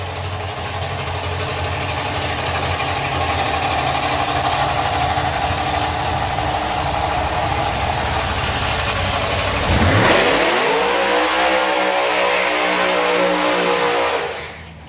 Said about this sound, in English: Nice big burnout from the dragster